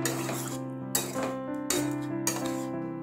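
Ridge gourd curry with lentil fritters being stirred in a pan after raw mustard oil goes in, heard as a few sharp metallic spoon clinks against the pan over a quiet background.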